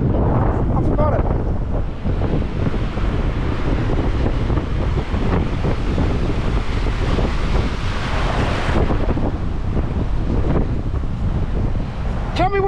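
Ocean surf breaks and washes continuously along a beach at Goolwa, with heavy wind buffeting the microphone, while people talk and call out over the steady roar of waves.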